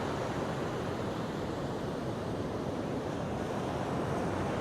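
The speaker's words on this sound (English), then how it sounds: "The waves look crazy." Ocean surf at Da Nang beach rolls in as a continuous broad wash of breaking waves, mixed with wind buffeting the microphone and holding a steady, fairly loud level throughout.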